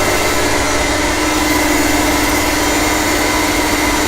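A brewery centrifuge spins beer at roughly 3,000 to 8,000 RPM to separate out solids, giving a loud, steady, even mechanical whir and hum that holds without break for the whole stretch, with no voices.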